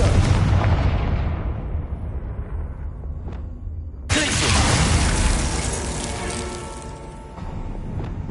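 A Confringo blasting spell goes off in Hogwarts Legacy: a loud rumbling blast with a sharp burst about halfway through, followed by a long crackling, roaring decay.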